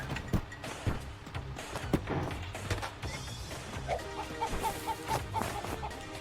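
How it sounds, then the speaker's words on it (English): Clucks from a chicken in the video game Moving Out, a few short calls in the second half, faint against steady game music and scattered thumps. "This time, you have a chicken running around,"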